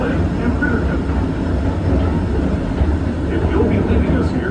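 Disneyland Railroad train rolling into New Orleans Square Station: a continuous low rumble of wheels and engine, steady and fairly loud, with faint squeals and clatter on top and no voice heard.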